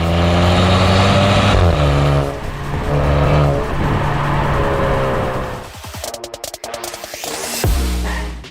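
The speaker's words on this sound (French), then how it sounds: "sans interférer sur la sonorité très typée d'une Maserati, comme même il s'agit d'un 4 cylindres" A Maserati Ghibli GT with a 2-litre turbocharged four-cylinder engine and 8-speed automatic gearbox revs and accelerates hard, pulling through gear changes with a loud, throaty drone, then crackles and burbles on a lift before surging again.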